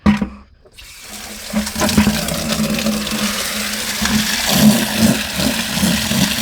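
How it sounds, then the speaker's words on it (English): Water pours from a tap into a garden bucket after a quiet start, a steady rushing, splashing fill that holds loud and continuous to the end. "And then we're gonna put some water in here."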